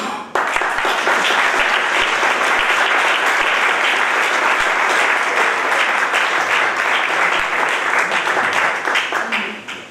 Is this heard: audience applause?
yes